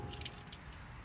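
Keys and loose metal tools jangle briefly in two short clinks during work on an entry door and compartment, faint against a steady background hum with no talk.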